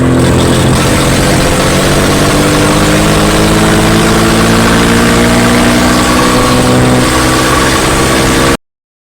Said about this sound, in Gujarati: ટ્રેક્ટરનો અવાજ આવ્યો તો હવે એકવાર